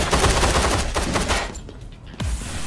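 Rapid gunfire from the video game Gunz 2, a dense loud burst of automatic shots that breaks off, followed by a single sharp report.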